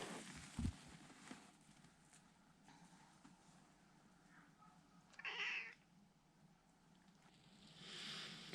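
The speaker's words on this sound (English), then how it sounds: "I'm not sure where we were before that cat so rudely interrupted us" A cat meows indoors during a wreath-making session with deco mesh, a short clear cry standing out midway over a low background hum, with faint handling noises and a brief thump near the start.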